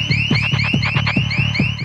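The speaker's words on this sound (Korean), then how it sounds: "작동한 경보기." An electronic alarm sounds in a film scene, a loud, rapid pulsing wail with repeated rising whoops about four per second, close and continuous with no talking over it.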